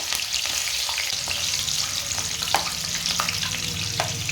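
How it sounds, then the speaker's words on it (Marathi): Slit green chilies fry in hot oil for corn pakoda, giving a continuous close bubbling sizzle with a few scattered spoon taps and light stirring and no voices. "ह्या काही मिरच्या पोट फाडून घेतलेल्या आहेत आता आपण हे तळून घेऊयात"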